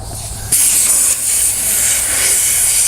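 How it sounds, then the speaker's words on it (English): Air hissing steadily out of a tire through a screw-on Staun tire deflator, a loud, close, continuous spray of air that starts abruptly and holds constant without pause. "And air will immediately start coming out."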